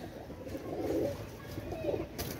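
A pair of KTM Teddy high-flying pigeons coo softly in low, rolling bursts, close by and fairly quiet, with a faint background hum.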